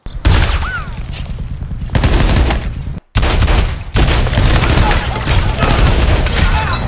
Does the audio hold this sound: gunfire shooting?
yes